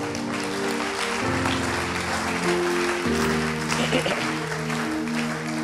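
A church congregation claps loudly and continuously to acclaim the Lord, dense applause running throughout with sustained organ or keyboard chords beneath.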